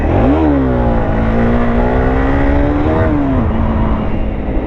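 Motorcycle engine revving loudly and close during wheelie warm-up laps, a rising then held whining pitch with a dip and another climb near the end, alone without talk.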